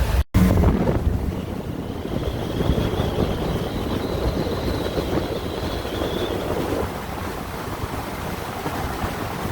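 Rushing water pours out of the dam at the Swift Rapids lock on the Trent-Severn Waterway, a steady, loud broadband roar with wind buffeting the microphone and no talk.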